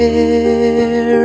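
Piano plays a sustained chord from the final section of a song, rich held tones ringing clearly with no voices.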